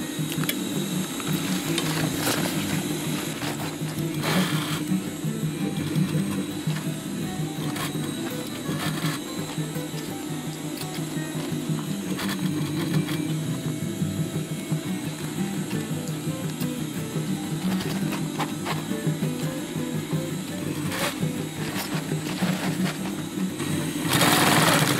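Sewing machine stitching a 30-litre fabric backpack, running steadily with a fast, even mechanical whir and clatter that goes on throughout, close and fairly loud, with no talking.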